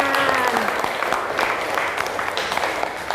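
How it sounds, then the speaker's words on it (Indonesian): A classroom of schoolchildren claps on a teacher's cue during a morning lesson, a brisk, dense burst of small hands filling the room from start to finish. "tepuk tangan"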